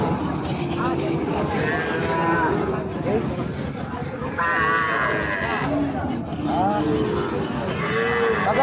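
Cattle at the Raniganj cattle market moo several times, some calls near and some farther off, over constant crowd babble and nearby talking.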